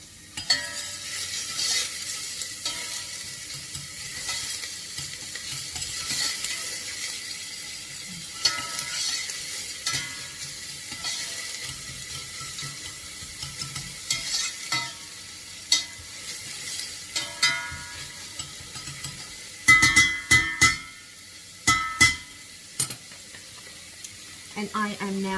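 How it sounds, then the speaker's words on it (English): Pork, veal and beef mince sizzle in a pan for lasagne, a steady soft crackle throughout with occasional clatters and stirring noises, while a person talks over it. "That sizzle is just so satisfying."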